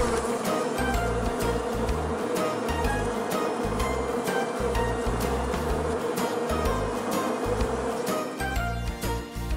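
Bees buzz steadily around beehives, a dense continuous drone that stays loud and close throughout with no voices over it.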